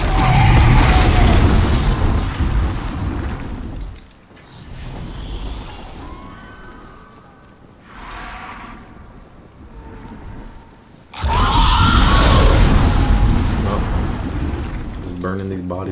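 Fire roaring over a burning character's body while fighting the Red Dragon in the Demon's Souls remake: loud, dense, rushing bursts that fill the opening seconds, a quieter rumbling stretch, then another heavy roaring surge near the end.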